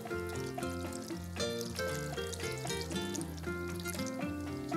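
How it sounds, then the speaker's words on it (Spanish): Water pours steadily into a jar holding rags soaked with solvent, its pitch rising in steps as the jar fills, with a continuous gurgling trickle close by and no voices. "Le ponemos agua en el tarro"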